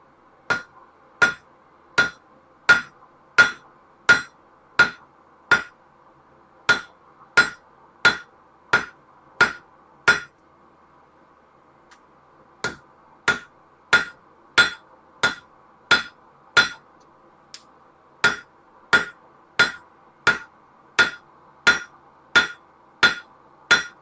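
Steady, evenly spaced ringing hammer blows on metal over an anvil while a gardening trowel is reforged, loud and close, in two long runs separated by a brief pause.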